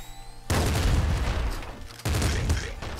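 Heavy video game gunfire from the Assault Slugger in Nuclear Throne, a dense burst of loud booming shotgun blasts, a brief pause, then a second burst, all over a faint background music tone.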